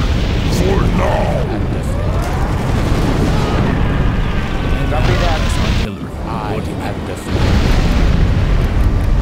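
A massed MLRS rocket bombardment pounds a base in C&C Generals Contra, with dense continuous rumbling explosions and crackling bursts rolling on loudly, briefly dipping before surging again, while voices talk over it.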